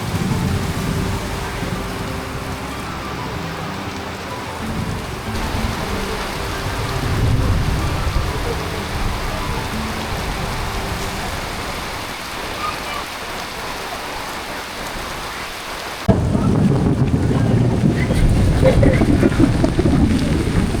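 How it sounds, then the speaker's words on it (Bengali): Heavy rain pours steadily during a thunderstorm on Chandradinga hill, a loud, close downpour with low rumbling swells. The sound surges louder near the end, with no talking. "প্রচুর পরিমাণে বজ্রপাত হচ্ছে"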